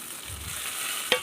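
Tomatoes and onions frying for a fish curry, giving a short burst of soft close sizzling with a brief stirring scrape at the end.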